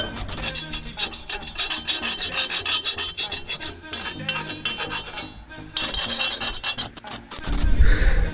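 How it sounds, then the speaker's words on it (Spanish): Hand sanding of a metal mototaxi pull handle, a close, steady scraping rasp in repeated strokes with brief pauses between passes. "Vamos a lijarle un poquito."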